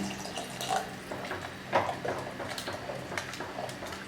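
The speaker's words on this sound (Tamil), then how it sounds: "இதுக்கு தேவையான அளவுக்கு கொஞ்சமாக தண்ணி" Water is poured into a cooking pot of Tamil green gram gravy with garlic and onion, a faint, close trickle and splash with a few brief louder gushes.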